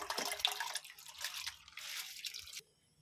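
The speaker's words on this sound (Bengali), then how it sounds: "এবারে আমি জলটা আমার হালকা গরম হয়ে গেছে আমি চালটা এবারে দিয়ে দিচ্ছি" Soaked basmati rice pours into warm water, a close, soft, splashy trickle of about two and a half seconds that stops suddenly into near silence.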